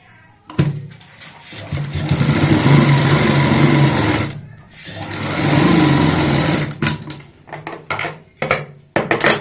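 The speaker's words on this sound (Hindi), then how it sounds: "लास्टिक को ऐसे यहाँ पे रखेंगे और सिलाई लगा लेंगे।" Elastic is stitched onto a pleated palazzo with a sewing machine. It whirs loudly and close in two sustained runs separated by a short pause, followed by scattered clicks and handling knocks.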